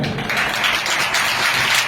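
A church or hall audience claps together in a steady, continuous wash of applause that fills the whole moment without any speech over it.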